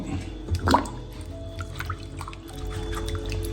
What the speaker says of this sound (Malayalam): എല്ലാം വെള്ളത്തിലിട്ട് കഴുകുന്നു.